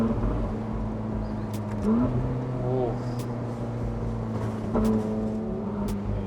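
A Ferrari 458 Spider burbles on overrun, its low exhaust rumble steady and close with a few sharp crackles and pops scattered through, plus a brief rise in engine pitch midway.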